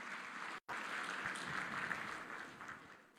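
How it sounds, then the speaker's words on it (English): Sustained applause fills a dinner room honouring Team Botswana athletes, dense and steady throughout, broken by a split-second dropout, with no voices over it. "Another round of applause for District Commissioner."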